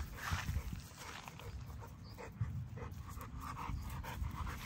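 An XL pit bull pants fast and rhythmically close to the microphone with faint whimpers mixed in, outdoors during off-leash fetch, and there is no talk.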